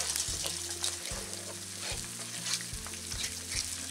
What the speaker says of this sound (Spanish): Que vayan friendo un poquito